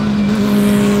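Race car with a 2.5-litre engine climbing the Simola hillclimb course, a loud sustained engine drone holding a steady pitch, close and continuous with no talk over it.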